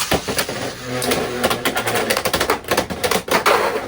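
A rapid ratcheting rip of a Beyblade X winder launcher being pulled, launching a Dran Buster top, followed by clattering, rattling spin noise up close, with no talking.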